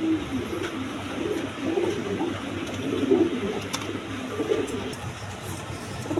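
A running pair of Chuachandan pigeons coo softly and repeatedly in low, rolling murmurs, close by, with faint background noise and occasional small clicks.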